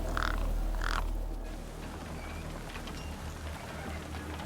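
A gang bird caws twice in quick succession near the start in the Beyond a Steel Sky video game, then falls silent over a steady rain-like ambient wash.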